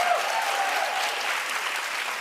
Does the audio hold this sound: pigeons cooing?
no